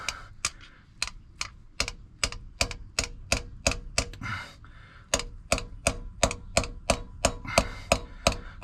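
A socket on an extension is hammered against a wheel bearing on a Chevy Vega, producing a long run of close, evenly spaced metallic raps with one brief pause partway through.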